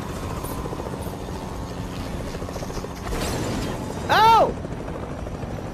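In a video game, a helicopter's rotor chop thrums steadily under brief shouted exclamations, with a short rising mechanical whine near the end.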